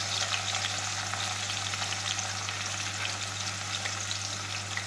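Onions, chopped tomatoes, green onion and scotch bonnet pepper fry in a pan with a steady, dense sizzle and a low constant hum underneath, and nobody speaks.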